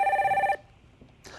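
A telephone rings for the next caller on a live phone-in show, one loud warbling electronic trill that cuts off abruptly and leaves a quiet line before a faint new sound starts.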